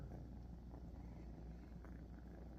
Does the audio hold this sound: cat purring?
yes